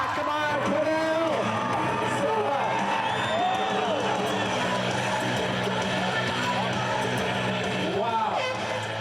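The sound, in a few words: rodeo crowd cheering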